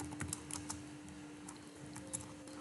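Quiet keystrokes tapped in short irregular bursts on a computer keyboard, a steady faint hum underneath and no talking.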